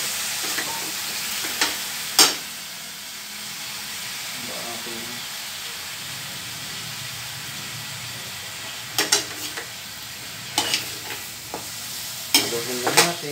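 Pork hock humba is stirred in a pan, with a steady sizzle and hiss of frying under a few sharp scraping clatters of the utensil against the pan, close and fairly loud.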